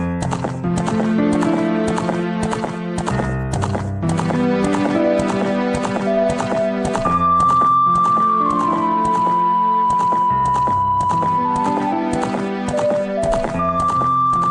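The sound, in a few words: horse hoof clip-clop sound effects from Zelda: Ocarina of Time video game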